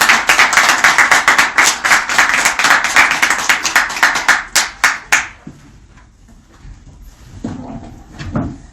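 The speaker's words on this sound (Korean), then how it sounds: "큰 박수로 환영하여 주십시오." An audience at a party founding rally in Korea claps loudly to welcome a guest lecturer. The rhythmic, closely miked clapping is sustained for about five seconds, then breaks off into near quiet with a few faint stray sounds.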